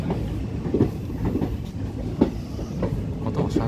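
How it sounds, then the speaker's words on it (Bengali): A train rolls slowly along rails through hill country, with soft rhythmic clickety-clack of wheels over joints and a steady low rumble at moderate distance, no voices. "আর ট্রেন তো আস্তে আস্তে চলছে এই মুহূর্তে।"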